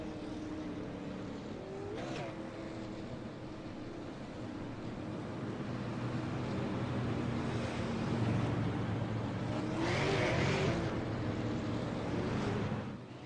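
Race cars pulling back onto an ice racetrack after a restart in the IceBreaker 200, a steady broadband engine roar rising through the field, with a louder pass near the end.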